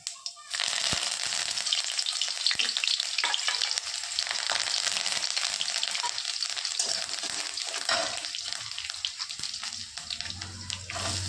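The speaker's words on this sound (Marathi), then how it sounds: "आता टाकत आपण थोडेसे जिरे थोडेसेच टाकू कढीपत्ता आणि लसूण" Cumin seeds, curry leaves and garlic sizzle and crackle loudly in hot oil in a pan for Marathi-style matki dal with onion, a steady bright hiss carrying on without any talk.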